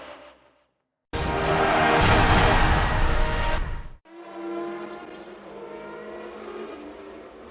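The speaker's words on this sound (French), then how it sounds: "Les Audi qui n'ont aucune difficulté à doubler qui bon leur semble." Audi race cars at the 2002 24 Hours of Le Mans roar past loudly in a sustained high-revving burst, then fade into further engine drone from cars farther off.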